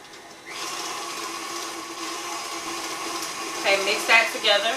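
Electric mixer beating cream cheese with sugar for a peanut butter cheesecake, a steady whirring motor drone starting after a brief quiet moment and holding loud and close, with rattling toward the end.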